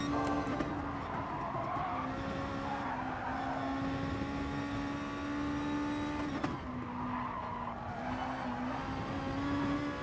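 A Honda NSX race car in Gran Turismo Sport corners at speed, its engine a steady loud drone with shifting pitch, interrupted once by a brief gear change.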